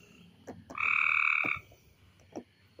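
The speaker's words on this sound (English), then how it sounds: "That's a frog." Gray treefrog beside a pool gives one loud, near trill lasting under a second, with a few soft clicks and rustles around it and no talking.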